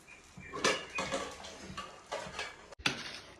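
Tapioca biryani is stirred in a pot, giving a series of close scraping clinks and soft knocks of a utensil against the metal, steady and moderately loud, with no talking.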